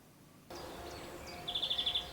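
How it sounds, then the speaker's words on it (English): Birdsong in a lush summer landscape at Wiveliscombe, a quiet outdoor ambience that opens up, then a short rapid series of bright repeated chirps fairly near. "the only sound is that of birdsong"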